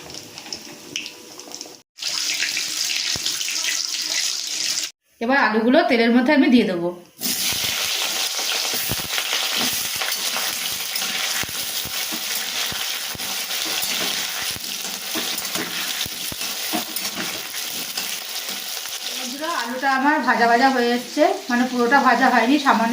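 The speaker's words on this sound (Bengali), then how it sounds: "এবার তেলের মধ্যে আমি তেজপাতা জিরে ফোড়ন দিয়ে দেবো" Bay leaves and cumin seeds hit hot oil in a kadai with a loud, steady hiss and crackle that runs throughout, while someone talks over it in short stretches.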